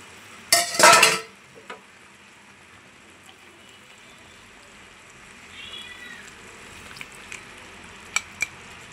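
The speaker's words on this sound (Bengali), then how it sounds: "এই যে আমার আগের মাছগুলো এখন অ্যাড করে দিচ্ছি" Fried fish drops into a pan of cooking leafy greens with a short, loud sizzling burst near the start. It settles to a quiet background broken by a few faint clinks and a thin high whine.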